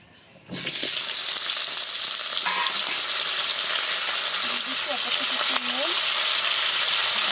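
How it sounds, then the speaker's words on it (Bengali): Potatoes for a chicken curry go into hot oil in a kadai, setting off a sudden loud sizzle that holds steady and close, with faint voice-like murmurs beneath it. "আলুগুলো প্রথমে ভেজে নেব।"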